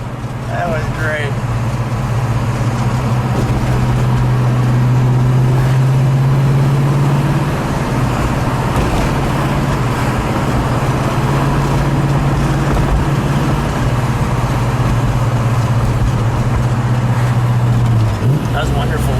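A 1969 Ford Mustang Boss 302 with its V8 drives along, a steady, loud engine drone with a low hum that shifts slightly in pitch, while a voice talks over it throughout.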